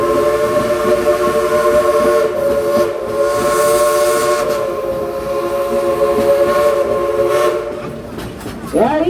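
Steam whistles on the Frisco Silver Dollar Line train blow in a long, loud, sustained chord of steady tones with crowd noise beneath, then cut off near the end.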